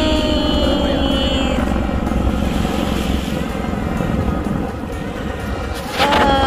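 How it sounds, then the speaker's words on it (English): Aircraft engine roar over Corniche Beach in Abu Dhabi, a loud sustained drone that gradually fades, then a brief burst of nearby noise near the end. "airplane!"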